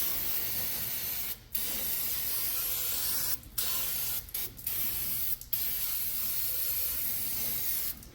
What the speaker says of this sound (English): I'm going to get brake clean, hit it with brake clean